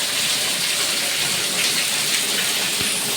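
Heavy rain pours down in Amreli district, a dense, steady hiss of drops striking surfaces close by. It stays loud and unbroken throughout, with no voices.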